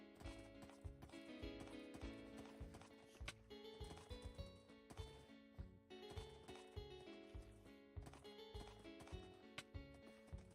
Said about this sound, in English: I'm gonna ride my horse all the way back in there because I'm not redoing all of that.